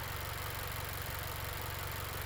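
A Mazda 2.5 Turbo engine with a Cork Sport intake runs steadily at idle, a constant low mechanical hum with faint valvetrain ticking, close and alone.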